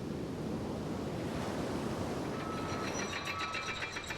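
Ocean surf washes along the Great Ocean Road coastline in Australia, a broad steady roar of waves with wind noise, joined near the end by faint rhythmic clicking.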